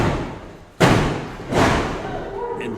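A wrestler crashes onto the ring mat after a dragon leg screw in a Spartan vs Dorian Webber match, two heavy thuds about a second apart, loud and close over arena noise.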